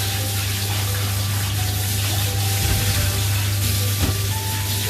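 Water runs steadily from a tap while a dog is rinsed in a bath, a constant close gushing hiss with faint splashing shifts as the stream hits fur and tub.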